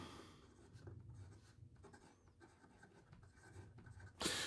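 A Leonardo Mosaico fountain pen with a fine flex nib scratches steadily across paper, a soft continuous writing rub close to the ear, ending in a brief louder scrape or handling noise.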